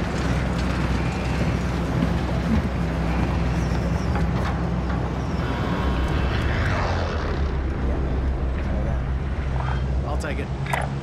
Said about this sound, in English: Plane rides over.